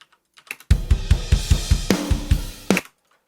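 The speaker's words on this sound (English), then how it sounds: "what happens if we put bass distortion pedal on drums?" Drums played through a Darkglass Ultra bass distortion plugin: heavily distorted, crunchy hits pound in a quick steady beat, loud and saturated, with a final pair of hits before stopping abruptly.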